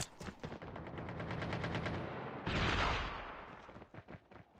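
Rapid bursts of automatic gunfire crackle in quick succession in Call of Duty Mobile, followed by a louder heavy blast and a few scattered shots trailing off.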